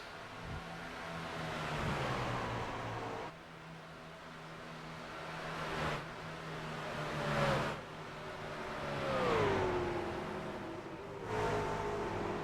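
Racing trucks in a video game sweep past one after another in a Las Vegas league race, engine tones rising and falling with Doppler-like swoops over a constant low hum, fairly faint.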